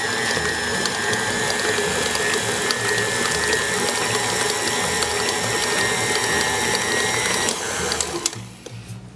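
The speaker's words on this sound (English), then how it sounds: "Plop it down, lock it in, and mix it on medium speed just for a few seconds." A stand mixer whirs steadily on medium speed through banana bread batter, a loud continuous mechanical grinding hum close by that winds down abruptly at the end.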